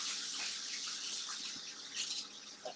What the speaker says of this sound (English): rinse off my tablespoon. Get the coconut oil off of it.